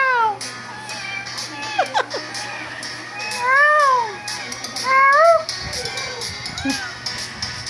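A young child imitates a cat, voicing a series of rising and falling meow-like cries, several in quick succession and then a pause, close and fairly loud, with faint background noise.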